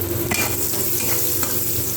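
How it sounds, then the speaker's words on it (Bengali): Chopped onion and slit green chillies with whole spices fry in hot oil, a close, continuous sizzle broken by quick stirring scrapes. "ওই তেলের মধ্যে একটু পেঁয়াজ কুচি আর দুটো চেরা কাঁচা লঙ্কা দিয়ে আর একটু ফোড়ন দিয়ে আমি ভালো করে ভেজে নেব"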